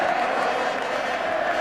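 A stadium crowd roars steadily at a rugby league Challenge Cup final between Wigan and Hull, a dense, continuous wall of cheering that holds at full volume throughout.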